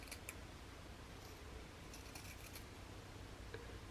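Scissors cut through quilt fabric along a stitching line. The snips are close and faint, with a few sharp clicks over a low steady background and no talking.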